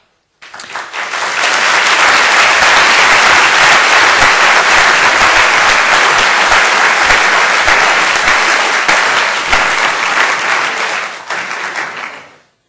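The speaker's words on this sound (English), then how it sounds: "And that is only the first applause you get tonight." An audience in a lecture hall applauds to welcome a guest speaker, a former President of Latvia. The clapping rises quickly, holds loud and dense for about ten seconds, then fades.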